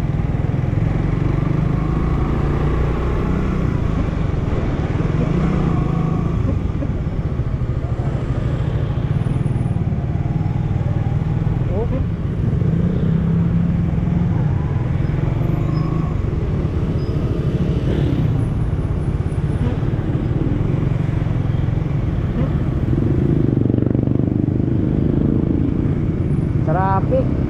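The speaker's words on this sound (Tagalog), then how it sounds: "Traffic." Road traffic in the town of Rosario, with motorcycles and cars idling and crawling past close by in a dense, continuous engine drone that swells and eases over a long stretch.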